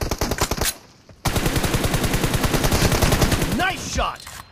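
M4 rifle fire in the mobile battle game BGMI: a short burst, a brief pause, then a long sustained stream of rapid automatic shots, loud and close, with a few synthetic in-game effect sounds near the end.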